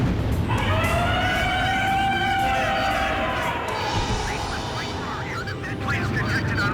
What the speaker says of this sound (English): Sound the air raid sirens.